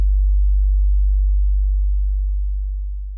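A deep sub-bass synth tone from a Bitwig patch drones as a pure, steady low note, loud and isolated, very slowly dying away while it drifts between left and right.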